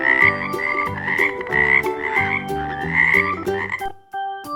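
A frog croaking in a children's animal-names lesson, repeated rhythmic croaks layered over a musical backing, loud and close before stopping near the end.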